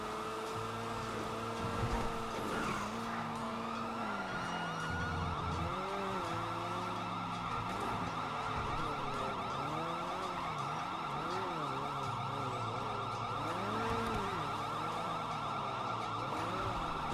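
Wailing emergency vehicle sirens, apparently two at once, sweep up and down continuously at a steady, fairly loud level for the whole stretch, with overlapping rising and falling tones and no talking.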